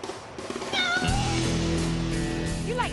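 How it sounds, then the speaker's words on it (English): A black cat on a rickety rooftop lets out a couple of clear, drawn-out meows over a steady, loud background rumble. "A black cat runs from her."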